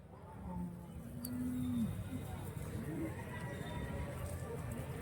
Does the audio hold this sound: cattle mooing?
yes